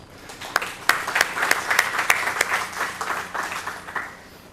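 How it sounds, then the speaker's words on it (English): Audience applause for a speaker invited up to the stage at a subsea telecom industry event, a dense, steady wash of many hands clapping with a few sharper claps standing out, fairly close and sustained throughout. "Give Jeff a big round of applause."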